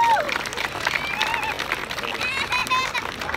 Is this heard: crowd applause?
yes